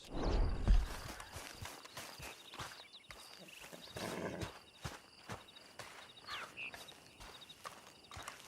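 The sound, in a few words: horse walking and whinnying in video game Red Dead Redemption 2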